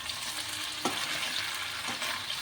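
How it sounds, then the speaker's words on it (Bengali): Onions and potatoes fry with tomato and ginger garlic paste, a continuous close sizzle with soft stirring scrapes over it. "এই দেখো পেঁয়াজ গুলো আর আলুটা একটু সামান্য ভাজা ভাজা হয়েছে"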